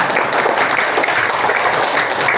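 A fifth-grade math class claps together for a student's correct answer, loud close rhythmic clapping from many children filling the room without pause.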